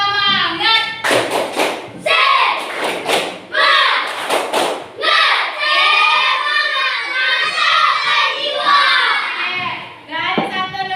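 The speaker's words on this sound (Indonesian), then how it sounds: "tepuk semangat." Children doing tepuk semangat, a rhythmic spirit-clapping routine with bursts of sharp claps and thumps in patterned groups, mixed with loud excited voices chanting and shouting along.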